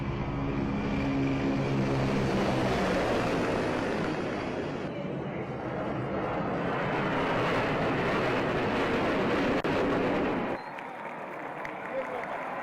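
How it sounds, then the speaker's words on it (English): A Su-30 MKI fighter jet roars past in a military flypast, a loud sustained broadband engine rush that holds steady and then drops away near the end. "The flypast concluded with a Su-30 MKI fighter jet carrying out a vertical Charlie maneuver over the saluting dais."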